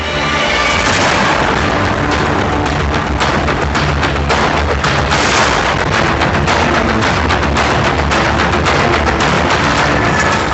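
An airplane crashing to the ground on landing: loud, continuous roaring rumble with dense crackling bursts, like a heavy crash and fiery explosion, sustained throughout without any voices.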